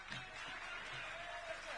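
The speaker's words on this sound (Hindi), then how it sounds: "तो मैं चाहूंगा एक बार जोरदार तालियां" A steady wash of audience applause fills a televised political debate in Raipur, continuous and fairly distant, with no distinct voices over it.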